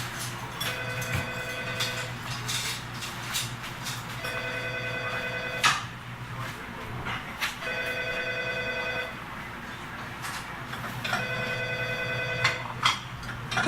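A telephone rings in repeated electronic bursts of about a second and a half each, separated by pauses, over a low steady hum and faint background clatter, with no talk.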